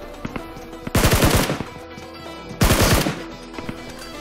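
Two loud bursts of rapid automatic gunfire from a UMP in the mobile battle royale game BGMI, each lasting about half a second and separated by a short pause, with faint game sounds between them.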